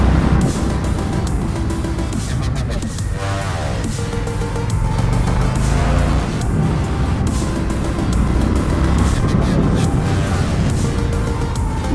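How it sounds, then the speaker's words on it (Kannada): An Indian FTR 1200 flat-track-inspired motorcycle is ridden at speed, a loud, steady roar of engine and rushing wind that never lets up. "ಇಂಥ ಮಜಾ ಬರುತ್ತೆ ನೋಡಿ ಗಾಡಿ ಓಡಿಸೋಕ್ಕೆ"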